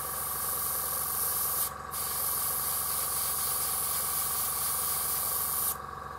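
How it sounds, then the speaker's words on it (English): An airbrush sprays paint in a steady, close hiss while hazard stripes are painted, cut off by two brief pauses. "when I'm doing any airbrushing, I'm putting two thin coats on it"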